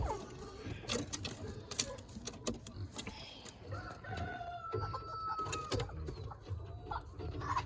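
Chickens in a coop, laying hens among them, cluck and squawk in a busy overlapping chorus, with a rooster crowing at times and other birds calling nearby, steady and fairly close throughout.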